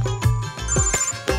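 A phone ringtone plays loud and close, a repeating melodic electronic tone that sounds alone with no voices over it.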